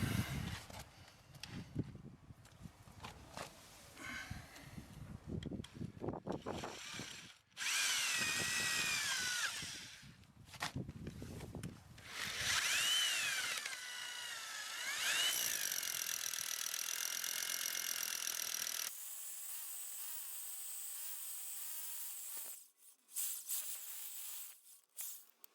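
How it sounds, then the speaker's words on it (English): A power drill bores a hole through a wall for an outside tap, loud and near, running in bursts of grinding with pauses, then a steadier whine before stopping. "I'm going to go and change the drill now."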